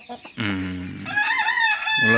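A decorative-breed rooster crows loudly and close, one long drawn-out call with a short cluck just before it.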